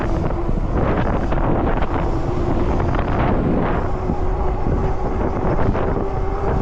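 Steady, loud wind roar buffeting the microphone throughout while cycling into a headwind up a mountain canyon, a broadband rushing noise with no speech.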